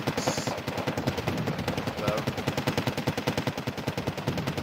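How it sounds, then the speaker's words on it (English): Machine guns fire in the Wargame strategy game, a rapid unbroken rattle of regular shots, loud and close throughout, with a speaking voice faintly beneath. "And they have 3 machine guns. So it's just shredding my riflemen."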